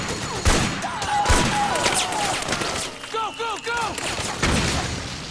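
Machine gun fire in Metal Gear Solid 4: Guns of the Patriots crackles in repeated bursts amid explosions and battle noise, with game sound effects and someone talking over the action.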